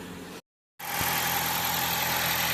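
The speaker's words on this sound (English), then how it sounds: "These aren't the quietest engines to begin with, so it's a little buzzy" A 2013 Dodge Avenger engine idles close by with a steady, somewhat buzzy drone and a brief dropout to silence near the start.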